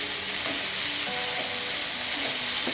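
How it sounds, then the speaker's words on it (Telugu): Chicken fried rice stir-fries on high flame, a loud, steady sizzle and hiss filling the whole stretch with faint scraping of the pan beneath it. "ఇలా వీటిని హై ఫ్లేమ్లోనే ఉంచుకొని కలుపుకుంటూనే ఉండాలి, మాడిపోకుండా చూసుకోవాలన్నమాట."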